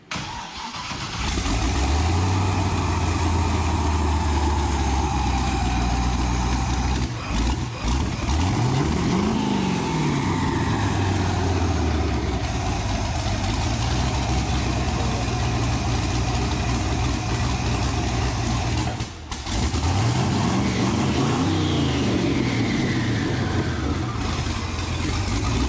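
A car engine fitted with twin turbos and an upgraded fuel system cranks, fires and idles, then is revved hard in repeated rising and falling sweeps. It stays loud and close throughout, with no talking.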